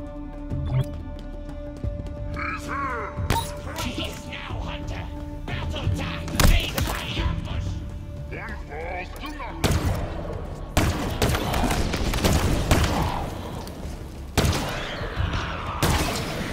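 Stalker rifle shots in Halo Infinite ring out as repeated loud cracks and thuds amid a busy battle mix of effects and music, some bursts clustered around the middle and end.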